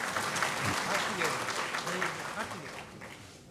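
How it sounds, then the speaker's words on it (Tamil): Audience applause at a Tamil pattimandram debate during a vegetarian festival in Chennai, a steady wash of clapping from a seated crowd that fades slightly toward the end, with voices mixed in. "யாராக இருந்தாலும் அவருக்கு ஒரு கைத்தட்டு கொடுத்துருங்க"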